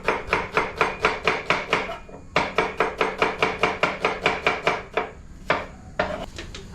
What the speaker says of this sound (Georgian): მანამდე დავჭრათ ხახვი